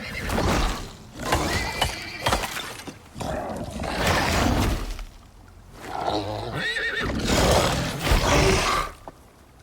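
A horse in a video game neighs and whinnies repeatedly in loud, close bursts separated by short pauses, with snorting and hoof clatter mixed in.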